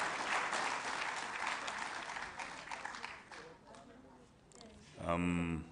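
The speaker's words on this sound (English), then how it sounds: "Another resounding round of applause for His Excellency." A crowd at the opening of an ARIPO session applauds loudly for several seconds, then the clapping fades as a voice starts speaking.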